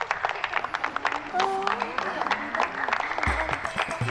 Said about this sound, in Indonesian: Tolong aplaus.